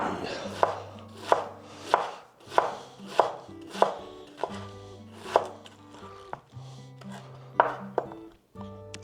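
A kitchen knife finely chopping vegetables for coleslaw on a board: about a dozen crisp, close chops in an uneven rhythm, each with a short ring-out, and no talking.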